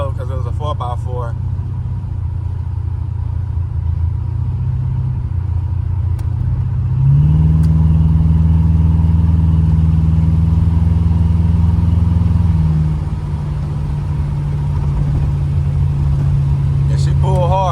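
1986 Buick Regal G-body with a big-block engine and Holley EFI pulling hard, a loud steady low rumble that swells midway, heard from inside the car.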